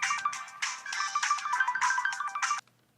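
A phone ringtone plays a bright repeating electronic melody in short pulsing bursts for about two and a half seconds, then cuts off into near silence as the call goes unanswered.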